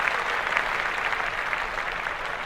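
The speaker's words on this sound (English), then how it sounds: "Let's clap that up." Steady applause fills the whole stretch, a dense even patter of clapping hands at a consistent moderate level with no voices over it.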